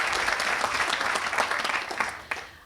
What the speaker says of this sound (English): a lot of these guys over here deserve a round of applause too